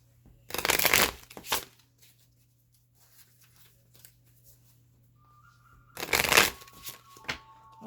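Rider-Waite holographic edition tarot cards are shuffled close up in two short riffling bursts separated by several seconds of near silence, with a faint steady hum underneath.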